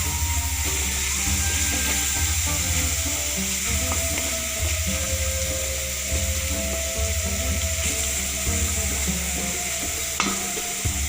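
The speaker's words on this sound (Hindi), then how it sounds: "चिकन की अच्छी तरीके से भुनाई करेंगे ताकि अपना कलर चेंज करे।" Chicken pieces being stir-fried in a pan for Chinese fried rice, with a steady sizzle and repeated scraping and stirring strokes throughout, close and fairly loud, with no one talking.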